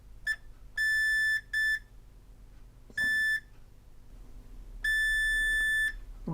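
Multimeter continuity tester beeping in short and longer tones, several separate beeps with pauses between, close and clear, while wiring on a Sharp VZ-3000 is tested.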